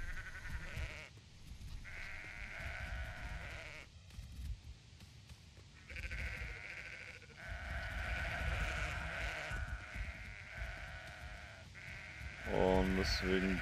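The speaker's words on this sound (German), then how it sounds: "Natürlich alle Schafe dort hinten reinbringen." Sheep bleat in the video game Sudeki, a few harmonic calls sitting within continuous game audio and a voice talking over it, with a louder cluster of bleats near the end.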